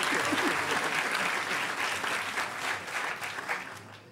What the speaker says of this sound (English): Everybody, round of applause for Nick Farr and his head.